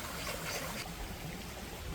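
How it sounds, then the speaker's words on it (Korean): After rain, a stream runs through a village alley below Inwangsan, a steady, loud rushing of water that fills the whole moment with no voices over it. "물소리가 아주 크네요."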